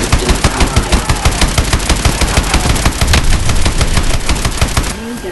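Rapid bursts from a vehicle's main gun in Call of Duty Advanced Warfare, a loud, steady run of automatic shots that keeps going without a break through most of the stretch before stopping.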